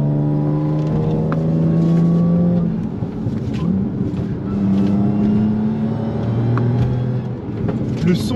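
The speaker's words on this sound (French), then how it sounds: "t'as le V6 qui gueule quand t'es passé" A supercharged 420 hp V6 in an Audi S5 roars loudly on a wet track, its pitch climbing and dropping through repeated gear changes as the car pulls hard.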